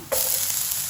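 Onion drops into hot oil for sautéed long beans with pork and bursts into a sudden loud sizzle that holds steady, close up.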